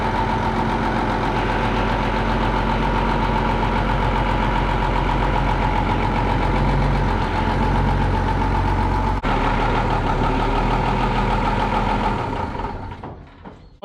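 A steady, loud Case tractor engine idles continuously with a low rumbling drone, then cuts off near the end, leaving silence.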